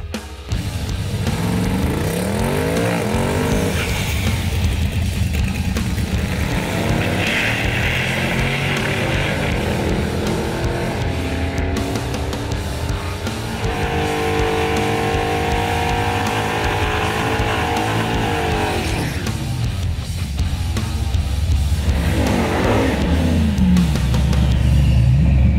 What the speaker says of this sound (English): Now let's get back to some tyre smoking, drag racing action.